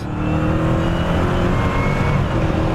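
A 2018 Dodge Challenger Hellcat Widebody's supercharged engine howls steadily at high revs on a race track, loud and close throughout without a break.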